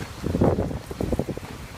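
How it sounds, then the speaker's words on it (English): Gusty hurricane wind during Hurricane Irma buffets the microphone in rough, rumbling surges, fairly loud and close, with no voices. "Winds are blowing up. A lot of gusts coming through."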